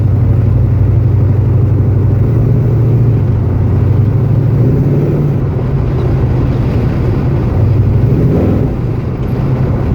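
A muscle car with a Holley carburetor and a flooding engine rumbles loudly from inside while driving, its low engine tone rising and shifting as it accelerates, a constant heavy drone throughout.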